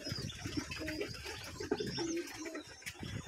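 Soft overlapping coos of pigeons fill a pigeon house on a farm, close and continuous, with faint higher chirps mixed in and no speech.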